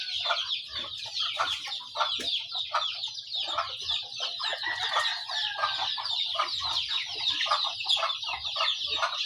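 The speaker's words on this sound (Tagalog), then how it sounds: "Kruk kruk kruk kruk. Yan po yung ating mga manok." A flock of chickens clucks continuously nearby, a busy overlapping chatter of short calls with an occasional rooster-like cry, steady and fairly close.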